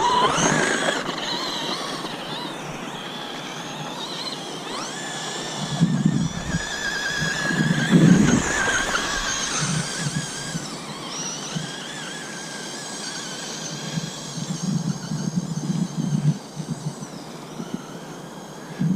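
A Traxxas Stampede RC truck rips across an ice skating rink in freezing weather, its electric motor whining high and steady as it revs and surges, with sharper bursts now and then, no talk.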